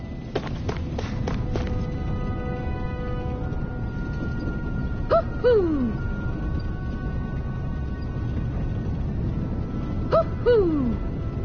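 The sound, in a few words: owl hooting in a video game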